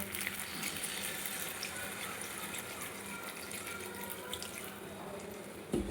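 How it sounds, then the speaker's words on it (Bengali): Water pours steadily into a pan of spice-fried vegetables for Bengali sukto, a continuous close splashing that runs for several seconds before a short knock at the end. "এবার আমি এর মধ্যে জল দিয়ে দেবো।"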